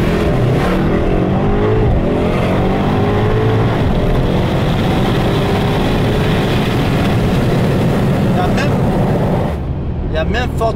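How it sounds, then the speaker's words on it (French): A Mercedes-AMG GT 63S accelerates on a motorway between Paris and Monaco, its engine note loud and rising continuously from inside the car, with road roar underneath and people speaking over it. "Regardez l'accélération."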